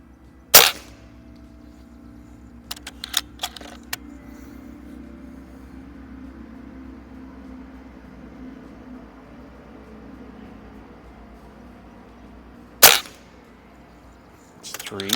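A Beeman 1358 underlever air rifle fired during backyard plinking: one sharp, loud crack, then a quieter stretch with a few small clicks, and a second loud shot near the end, all over faint outdoor background.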